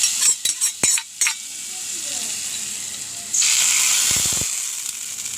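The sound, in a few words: tempering of onion, curry leaves, chili poured sizzling into fish curry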